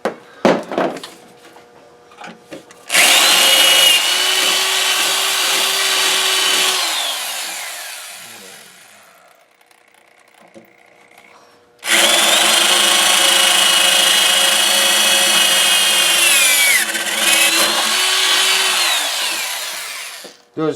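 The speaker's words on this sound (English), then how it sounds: "So we're going to drill a couple holes." A power drill bores holes into a metal battery box bracket during a repair, two loud sustained whining bursts of several seconds each, separated by a quieter pause, with no talk.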